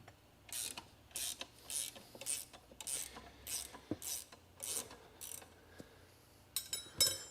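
A wrench loosens the adjustment on a steerable cultivator, giving a regular series of close ratcheting rasps in short bursts, about a dozen strokes with brief pauses between them.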